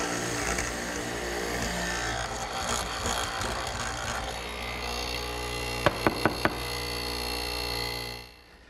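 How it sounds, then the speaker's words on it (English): A mortising machine fitted with a half-inch hollow chisel and bit cuts into wood for an outdoor garden table, a steady mechanical drone under grinding, with four quick sharp knocks near the end before the motor winds down. "I've set up my mortising machine with a 1/2-inch mortising chisel and a bit"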